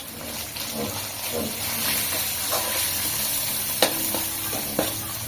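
Spices sizzling steadily in a hot pan for goat leg paya soup, a continuous close frying hiss with occasional stirring scrapes and sharp clicks of a spoon against the pan.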